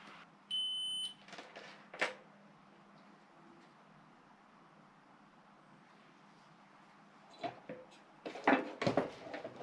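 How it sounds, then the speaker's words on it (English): A single steady multimeter continuity beep sounds briefly near the start while testing a guitar pickup, followed by quiet background and some handling clatter and rustling toward the end. "Get a beep here, nothing here, and a beep here."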